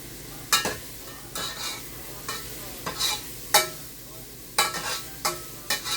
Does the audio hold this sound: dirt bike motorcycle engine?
no